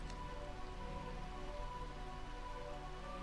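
Steady rain falls in Burmecia, the Realm of Eternal Rain in the video game Final Fantasy IX, a soft continuous patter with faint background tones. No one speaks over it.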